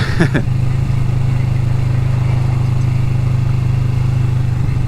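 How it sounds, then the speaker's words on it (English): Steady low rumble of a Kawasaki motorcycle engine while riding at constant speed, close and loud, with a brief rustle at the start. "the noise of the bike"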